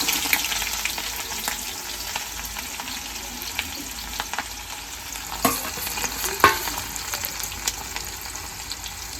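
Onion and chili fry in mustard oil with cumin and mustard seeds, a steady close sizzle broken by occasional spoon scrapes and clicks, no voices.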